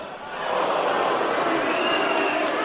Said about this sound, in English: Everybody was cheering him